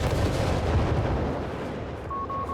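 A bundle grenade detonates in Company of Heroes 3, a heavy, booming blast with rumbling low end that decays over a couple of seconds, with a brief tone at the end and no talk.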